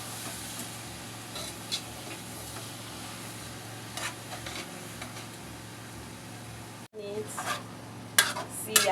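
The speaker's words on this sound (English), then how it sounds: "Turn it properly." Vegetable sauce with onion, seasoning and salt stirred in a pan, a steady scraping and soft sizzle running throughout with scattered spoon clinks, a brief dropout near the end, then sharper clatter.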